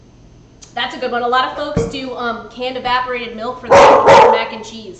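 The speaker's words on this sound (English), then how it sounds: "So sorry for my puppy barking." A five-month-old puppy barks a couple of sharp times near the end, under a close, continuous stretch of talking.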